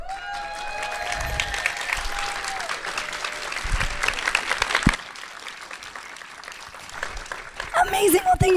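An audience at The Reusies 2023 awards, held for the GreenBiz Emerging Leaders Program, applauds and cheers steadily for several seconds, with whoops and voices mixed into the clapping before it thins out near the end.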